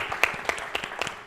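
A round of applause for Dean Elwood and students at an art-for-social-change event, heard as a faint, thin spatter of scattered claps with a few louder individual hand claps.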